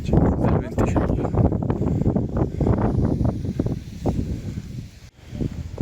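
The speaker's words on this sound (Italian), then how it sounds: "C'è del venticello." Breeze blowing across a ruined castle in the Aosta Valley, a steady, gusting rush of wind buffeting the microphone up close, with brief lulls near the end.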